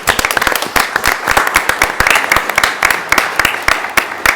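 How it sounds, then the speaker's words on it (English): Audience members clap in thanks at an evening meeting, the individual claps distinct and rhythmic, fairly close and loud, with no talking over them. "now's the time to thank the Finance Department with a clapping"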